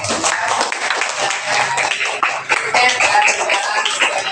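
Students clap together in a classroom after their teacher praises their good marks, a steady dense patter of hands lasting several seconds, with some shuffling and low voices mixed in.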